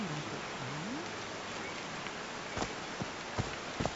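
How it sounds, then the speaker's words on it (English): Steady rain hiss in the video game Call of the Sea, a soft continuous wash of falling drops with a few brief sharper taps and thuds near the end. "These drops of rain are so refreshing."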